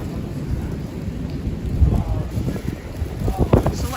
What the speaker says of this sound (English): So like I said, there's the rain